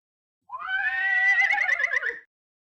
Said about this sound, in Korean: 힘찬 말 울음소리와 함께 사람들이 떠나자